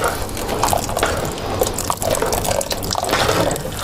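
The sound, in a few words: pouring hot boiled water into barley soup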